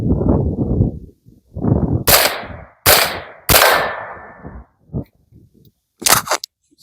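An AR-15 rifle fires rare-caliber rounds outdoors, with several sharp, loud shots spaced irregularly, some in quick pairs, each followed by a short ringing tail.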